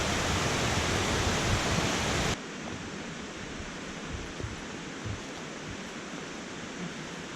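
A waterfall and creek in Western North Carolina rush steadily with dense, close, loud white water that drops to a softer, more distant roar partway through, with no voices.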